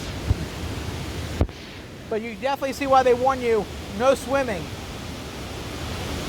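Rushing river at Sapan Hin waterfall in Thailand, a steady loud roar of rough water running throughout, with someone talking over it midway.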